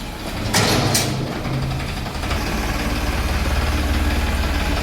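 A tractor engine idles with a steady low rumble, loud and close, after a couple of brief knocks near the start.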